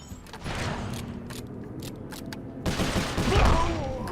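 Rapid bursts of gunfire in the video game Sly Cooper: Thieves in Time, a dense fusillade of close, loud shots layered over game effects and a louder blast near the end.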